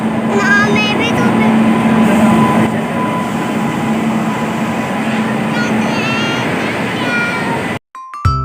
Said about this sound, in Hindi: अरे वाह! आ गई ट्रेन